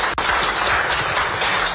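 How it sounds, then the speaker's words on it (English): Audience applause for two African leaders at a joint media briefing at Jubilee House in Accra, a brief steady burst of clapping heard on its own. "with a resounding and a deafening round of applause"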